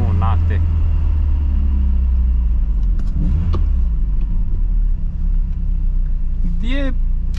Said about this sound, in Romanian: Și rev match-urile din nou minunate.